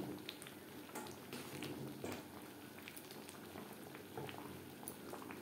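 Yellow pea curry with mutton fat bubbling in a pot, a steady close simmer of soft pops and gurgles running alone without a break.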